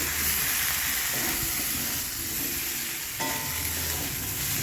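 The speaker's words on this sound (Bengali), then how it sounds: "সবজিটা ভালো করে আমি নেড়ে নেবো" Mixed vegetables for Bengali shukto, with turmeric, coriander powder, sugar, roasted spice mix and green chillies, stirred in a pan, giving a steady close sizzle with scraping stir sounds throughout.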